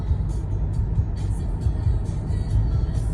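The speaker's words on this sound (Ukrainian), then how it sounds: "Знаєте, як в тунель заїжджаєш, дивіться, Анічка, так?" A car driving into a road tunnel, with a steady loud low rumble of engine and tire noise enclosed by the tunnel walls.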